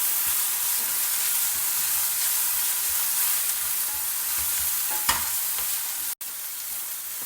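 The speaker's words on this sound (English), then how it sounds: "Now saute everything together." Mint leaves being sautéed in a pan for a South Indian mint thogayal, a constant close sizzle broken by occasional stirring scrapes, with no voices.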